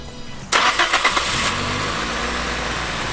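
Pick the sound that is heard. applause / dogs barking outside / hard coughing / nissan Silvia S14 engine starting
nissan Silvia S14 engine starting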